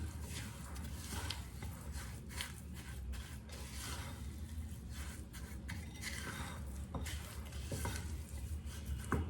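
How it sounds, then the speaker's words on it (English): A whisk beats an egg into cake batter in a bowl, a steady, fairly quiet stirring and swishing that continues throughout. "And you whisk this before adding another egg."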